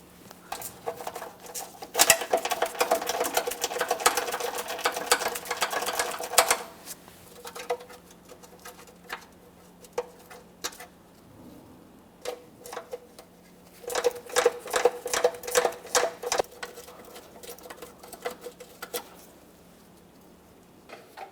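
Quick bursts of metallic ratchet clicks from a ratcheting wrench backing out 10 mm bolts on a 2007-2017 Jeep Patriot front crossmember, two busy stretches of rapid ticking separated by quieter pauses, close and fairly clear.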